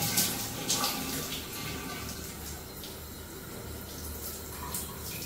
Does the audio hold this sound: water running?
yes